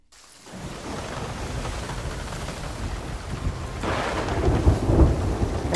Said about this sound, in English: I know, the storm's really fucking with us.